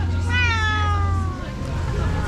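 Nearby, a cat lets out a single drawn-out meow with a rising then falling pitch, while a voice speaks at the same time over background room noise.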